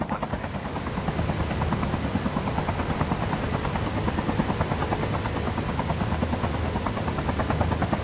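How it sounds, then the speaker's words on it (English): Helicopter rotor thudding steadily in Call of Duty Mobile gameplay, a dense continuous wash of engine and blade noise holding loud for the whole stretch with no speech over it. "May helicopter dito."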